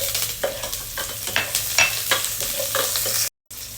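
Garlic and onion sautéing in hot oil for a Filipino spinach and shrimp dish, a steady close sizzle with stirring scrapes, broken by a brief silent gap near the end.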